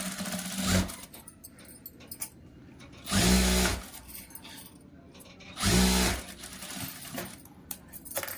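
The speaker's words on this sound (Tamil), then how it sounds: "இந்த கைடு அளவுக்கு ஃபாலோ பண்ணி ஒரு ஸ்டிச்சஸ் போட்டுருங்க" Sewing machine stitching a blouse piece, three short loud whirring bursts of about half a second to a second each, separated by quiet pauses with faint handling clicks.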